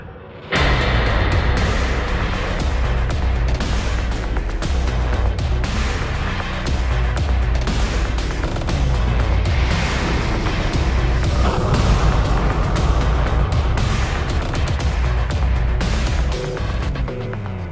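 Rocket engines roar at launch, a sudden loud broadband rumble that starts abruptly and holds heavy and continuous with deep low-end power throughout.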